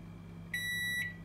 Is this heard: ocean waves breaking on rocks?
no